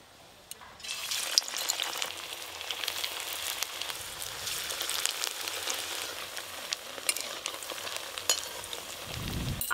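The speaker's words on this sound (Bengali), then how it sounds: "তেল তো গরম হয়ে গেল, মাছ যেরকম করে ভাজা করি সেরকম করে এগুলো আমি ভেজে নেব।" Vegetarian mock fish pieces hit hot oil and burst into a crackling sizzle that stays busy and fairly close, with a few louder pops.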